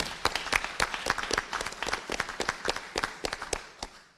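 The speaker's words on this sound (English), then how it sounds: "So, round of applause for" Audience applause at a school board monthly meeting in Concord: many hands clapping in a brisk, uneven rhythm, fairly loud and close, fading out near the end without any talk.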